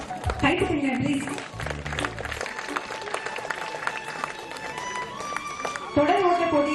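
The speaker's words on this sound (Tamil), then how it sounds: "கைத்தட்டுங்க ப்ளீஸ்." An audience applauds at a school annual day as children's prizes for sports events are announced, a steady patter of clapping mixed with an amplified voice and background music in a large hall.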